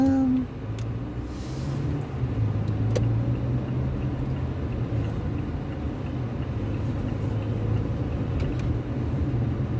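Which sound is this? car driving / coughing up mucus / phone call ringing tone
car driving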